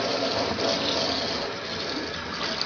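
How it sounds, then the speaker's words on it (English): Running shower water pours steadily while a pet guinea pig is bathed, a continuous close splashing rush with no talk over it. "This is like a shower."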